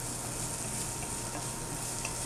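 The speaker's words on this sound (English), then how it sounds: "I like to turn the heat up just slightly, so when it hits the pan, it kind of sizzles ever so slightly." Liquid added to a hot pan for Italian gnocchi soup gives a soft, steady sizzle, a continuous faint hiss with light stirring and no voices.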